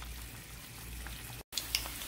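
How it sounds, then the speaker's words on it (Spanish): Rice simmers in a pot of water, one cup of rice to four cups of water, giving a steady, fairly quiet bubbling hiss that cuts out briefly before resuming. "ahí se tiene que seguir cociendo el arroz bien hasta que esté bien seco"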